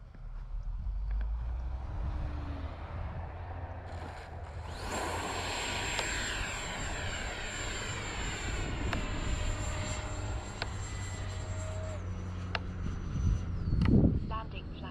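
An X-fly Sirius 80mm electric ducted-fan RC sport jet flying and landing on grass, its whining fan rising and falling overhead against wind buffeting, ending in a louder rush close by.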